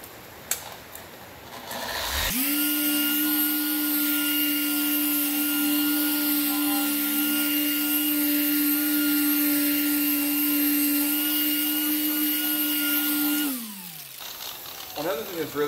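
A car paint polishing machine fitted with a Lake Country pad spins up sharply and holds a loud, steady whining drone for about eleven seconds, then winds down.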